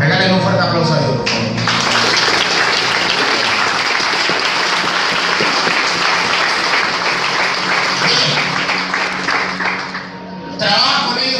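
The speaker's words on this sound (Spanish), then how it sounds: "Regálenle un fuerte aplauso a Dios" Loud, sustained applause from a church congregation fills most of the clip after a brief spoken cue in Spanish, then fades slightly before the voice returns at the end.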